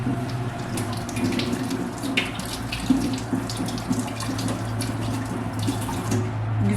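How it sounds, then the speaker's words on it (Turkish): A lemon is washed under a running kitchen tap, water streaming steadily and splashing into the sink for several seconds, with no voices heard. "Şimdi hemen bir tane limonumu aldım, yıkıyorum."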